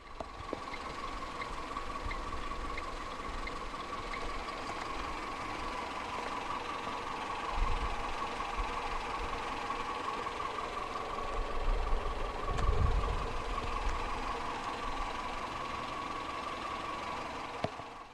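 A 2015 Renault Clio 1.2 16v 75 engine idles with a steady, continuous hum and faint rhythmic knocking, close by and even in level, with a couple of brief low thumps.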